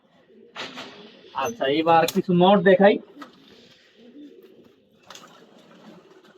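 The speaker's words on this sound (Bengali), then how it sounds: "এই হচ্ছে কবুতর।" Tournament racing pigeons coo softly in the background while someone talks in the foreground. Low, faint calls are heard before and after his speech.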